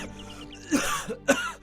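A man coughs from a cold, two harsh, throaty coughs with a throat-clearing sound between them, close and fairly loud against a quiet indoor background.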